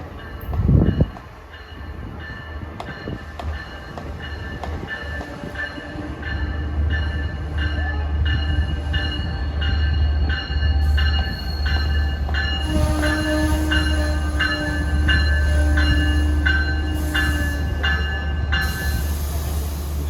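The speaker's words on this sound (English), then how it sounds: "Approaching the station westbound at 1:48 is train 651, Port Jefferson to Jamaica." A Long Island Rail Road commuter train rumbles steadily into a triple-track station, its low engine drone building and holding, with faint metallic squeals and clanks from the wheels.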